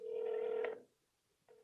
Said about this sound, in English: All right, Mr. Hammond, if you'll answer the phone for your attorney, please.